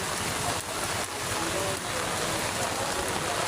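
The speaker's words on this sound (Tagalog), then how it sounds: "sana tumigil na yung ulan o" Steady broadband hiss of rain falling, continuous and fairly loud, with a faint murmur of voices underneath, during flooding along the Tullahan River.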